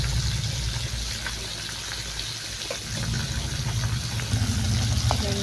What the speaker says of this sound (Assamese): ভাজি হৈ লওক।